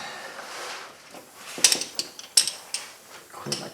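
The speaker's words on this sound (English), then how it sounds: "Clean my tools up as I go." Metal hand tools clink and clatter while being gathered and put away during rear subframe assembly on a 2000 Ford Focus: a quiet start, then several sharp, close knocks and rattles in quick succession, with no talking.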